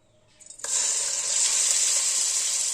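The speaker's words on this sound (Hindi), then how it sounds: "इसमें मैंने 3 स्पून ऑयल के डाल दिए हैं और ये कीमा इसमें डाल देंगे" Chicken mince dropped into hot oil in a kadhai, a few soft clatters followed by a sudden loud burst of bright sizzling that holds steady and close to the end.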